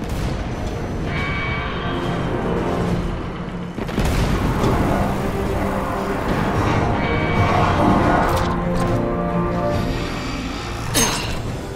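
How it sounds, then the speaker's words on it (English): Explosions in Destiny 2 in a prison setting, heavy booms and blasts with crackling debris and mechanical clatter, loud and dense throughout; no speech. "That explosion took out security on the lower decks."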